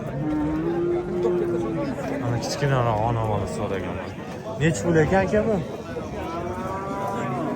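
Cattle and cows moo loudly and repeatedly at a busy livestock bazaar, with men bargaining and chatting nearby throughout.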